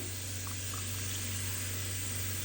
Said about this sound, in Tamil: 9 ஊற்றின இதோட 9 சொம்பு தேங்காய் பால் ஊற்றுறேன்